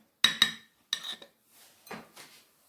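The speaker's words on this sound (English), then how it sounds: "Mix it very well." Bruschetta topping mixed in a bowl with a utensil: a few sharp clinks against the bowl followed by softer scraping strokes, close and distinct with no speech.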